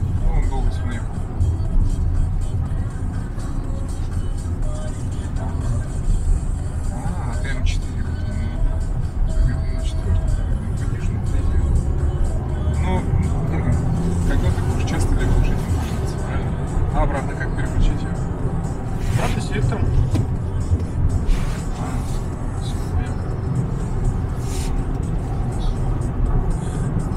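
An EXEED VX car cruises along a road with a continuous low rumble of engine and tyres, heard from inside the cabin for the whole stretch. People talk over the drive noise throughout.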